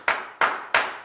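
Three sharp hand claps sound close and evenly spaced, each fading quickly, with no voices.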